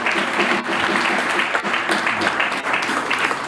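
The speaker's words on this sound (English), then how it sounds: "Big round of applause, ladies and gentlemen." Sustained applause from a crowd at a book launch in Uganda, dense steady clapping at close range with no pauses.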